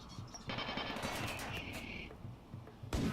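Automated turrets in RimWorld fire at incoming raiders, rapid bursts of close gunfire rattling for about two seconds, a brief lull, then another loud burst.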